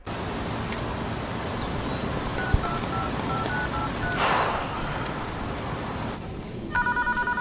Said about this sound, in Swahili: Akampigia simu detective mwenzie.